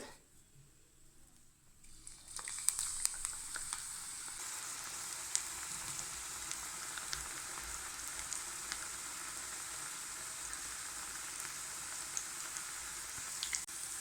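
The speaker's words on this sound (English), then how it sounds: "In a wok, heat oil for frying. When the oil turns hot, add flour and place them in the oil." Cashew mint pakoda batter is dropped into hot oil in a wok, and after a quiet start a dense, steady crackling sizzle sets in. It stays loud and close for the rest of the stretch, with occasional sharper pops.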